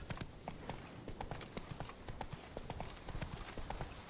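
A horse galloping in The Witcher 3: Wild Hunt, rapid rhythmic hoofbeats drumming continuously at moderate volume over ambient noise, with a voice heard briefly.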